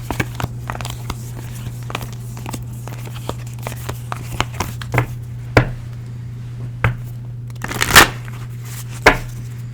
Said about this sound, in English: Bear with me as I shuffle.